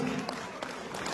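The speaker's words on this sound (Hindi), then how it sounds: "सिर्फ जोरदार तालियां होनी चाहिए" An audience at a real estate awards event claps steadily throughout, a dense wash of applause with no pauses, moderately loud and heard from within the crowd.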